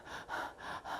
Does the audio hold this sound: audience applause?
no